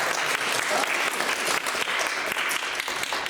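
A church congregation clapping together, a dense, even patter of many hands continuing throughout, moderately loud and unbroken by speech.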